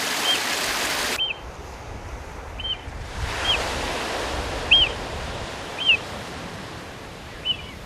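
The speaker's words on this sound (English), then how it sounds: "There's something magical about the sound of running water." Running water from small waterfalls along the coast of Eigg, Scotland, a steady broadband rush throughout, with faint chirps repeating over it at regular intervals.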